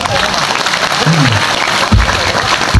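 An audience in a talk with a literacy figure breaks into dense, loud applause that fills the room, with a voice briefly audible beneath the clapping.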